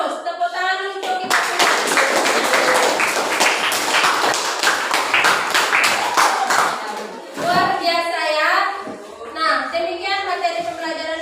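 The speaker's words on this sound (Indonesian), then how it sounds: "Tepuk tangan untuk kita semua." A class of young people in a church lesson claps together. Loud, fast hand claps ring out for several seconds, then fade into children's chatter and voices.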